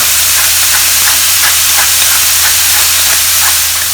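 Minced meat frying in a pan for claypot mee tai bak, a steady loud sizzle and hiss running throughout, with faint periodic scraping touches from stirring and no talking.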